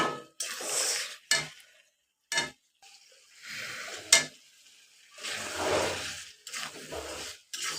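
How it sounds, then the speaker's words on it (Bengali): Pointed gourd, already fried until nearly soft, is stir-fried with prawns in a pan. Close, uneven bursts of scraping and sizzling come as the spatula works, with short quiet gaps between strokes and no talking. "এখন আমি পটলটা দিয়ে দেবো"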